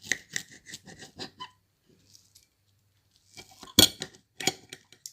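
A knife cuts into fried calamari rings with a run of quick, crisp crunching clicks and scrapes, close up. A short quiet gap follows, then a few more scattered crunches and a sharp knock of cutlery on a plate.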